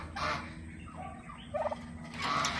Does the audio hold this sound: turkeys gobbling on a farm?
yes